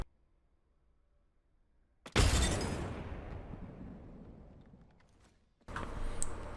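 A frag grenade blows up in Apex Legends, a sudden loud blast at about two seconds that decays into a long rumbling tail lasting several seconds before another burst of game noise cuts in.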